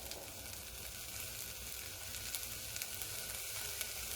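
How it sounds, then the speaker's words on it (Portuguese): Fresh corn kernels sizzle quietly in a frying pan, making a steady, faint crackling hiss throughout with no talking. "Antes de começar a chiar, você já acrescenta o milho em grãos que a gente não bateu."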